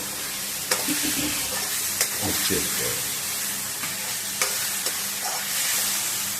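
Potatoes and green peas fry in a pan with a steady sizzle while a spoon stirs and scrapes through them, giving several sharp clinks against the pan.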